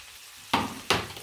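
Onions sautéing in a pan for tuna pasta: quiet at first, then two sharp bursts of sizzling and stirring, each fading into a steady frying hiss.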